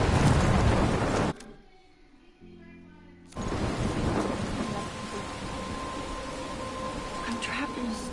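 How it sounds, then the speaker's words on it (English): A video game thunderstorm: loud, dense rain and rolling thunder near the listener, cutting out briefly to a quiet tonal lull before the downpour returns just as heavily. "I'm trapped in a storm?"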